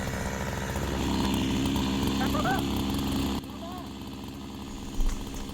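A chainsaw drones steadily and loudly while cutting into a breadfruit tree outdoors. The engine note drops partway through and keeps idling, with a brief knock near the end.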